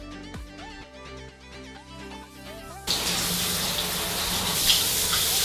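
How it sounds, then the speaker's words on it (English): Running water from a tap gushes over hair being rinsed clean, a steady loud splashing that starts suddenly partway through after a quieter stretch. "So I'm gonna rinse this hair off"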